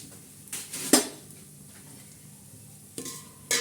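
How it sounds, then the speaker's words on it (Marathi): Coconut, cashews and almonds roast in a pan while a spatula stirs them, producing a few separate scrapes and clinks against the metal over a quiet, faint background sizzle. "काजू बदाम आणि खोबरं त्याच्यासाठी असं लालसर छान असं हलवत राहायचं"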